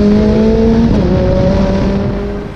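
A BAC Mono track-day car's high-revving engine roars loud and steady inside a tunnel, a sustained buzzing drone with shifting pitch that eases slightly toward the end.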